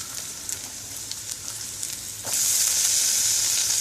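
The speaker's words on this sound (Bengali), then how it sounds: "এখন আলুটা দিয়ে ভাজবো" Food sizzles steadily in hot oil, the crackle jumping louder partway through as potatoes go into the pan.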